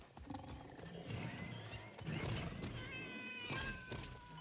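Cats meowing and yowling in a video game, several harsh drawn-out cries rising and falling over busy game noise, loud and close, with no talk.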